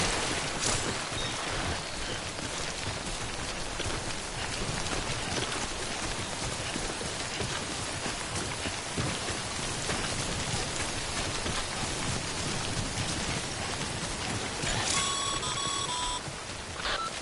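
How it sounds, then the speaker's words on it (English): Steady rain of timefall pours in the Death Stranding video game, a constant hiss of drops with a few faint electronic beeps near the end and no talk. "Don't stay out in the rain any longer than you have"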